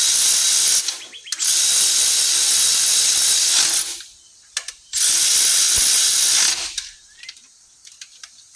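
Ratchet tightening valve cover bolts on a 1994 Toyota T100, with two long bursts of rapid, loud, close clicking separated by brief pauses and a few scattered metallic taps.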